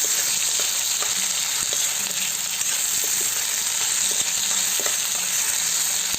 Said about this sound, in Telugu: కొద్దిగా కరివేపాకు, టమాటాలు వేసి బాగా వేయించేసుకుందామండి